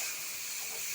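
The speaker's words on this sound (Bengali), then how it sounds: "এবারে একটু সামান্য একটু জল দিলাম। সামান্য একটু জল দিয়ে" Water splashed into a pan of frying coconut and yam sets off a steady, close hiss of sizzling steam that holds evenly for the whole second with no voices.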